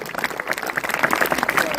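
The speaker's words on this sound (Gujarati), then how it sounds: "તો એમને પણ આપણે સૌ તાળીઓના ગડગડાટથી વધાવી દઈશું." An audience bursts into brisk, dense applause at an Independence Day school gathering, many hands clapping together in a continuous close patter.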